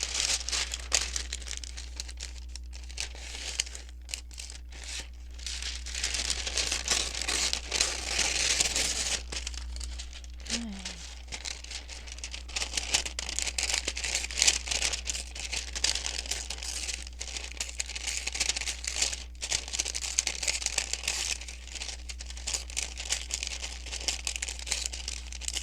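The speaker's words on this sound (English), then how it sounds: "I photocopied it on here on just tracing paper, and I'm sorry, but this is going to be noisy." Tracing paper carrying a photocopy crinkles and rustles near and close up as it is handled, in irregular bursts of crackling that come and go over a steady low hum.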